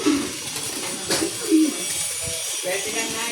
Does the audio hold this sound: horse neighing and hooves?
no